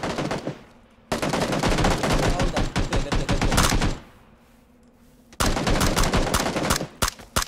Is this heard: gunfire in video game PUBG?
yes